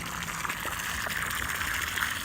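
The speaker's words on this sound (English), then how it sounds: "So I'm gonna sit here and spray the water down in there for a little bit" Water sprayed from a hose down into the hole around a fence post, a steady close hiss and splash that runs unbroken at even loudness.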